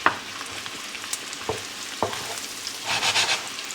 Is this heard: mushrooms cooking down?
yes